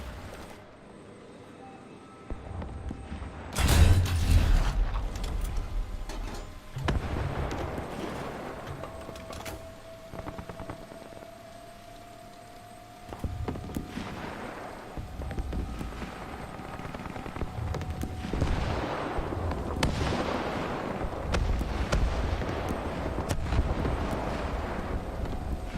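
Gunfire and heavy booms rumble through a tank battle in a war video game. One big close blast is followed by scattered, distant-sounding shots and thuds over constant wind-like engine roar, with a faint whine drifting across.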